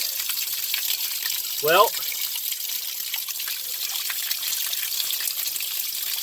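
Water from a hose sprays at full pressure into the outboard tailpipe of a boat, a steady broad hissing rush that continues throughout while someone speaks briefly.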